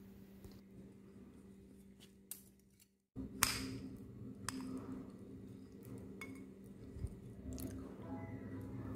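Someone eats purple sweet potato pie baked in a Teflon pan, with soft crunchy bites of crisp crust and faint clinks of utensils on a plate. The sounds come in scattered bursts, close and quiet.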